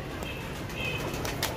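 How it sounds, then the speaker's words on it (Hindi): Kasur pigeons in a coop, soft flapping of wings close by with a few faint coos over a low background hum, no talking. "ये कसूर के कबूतर हैं"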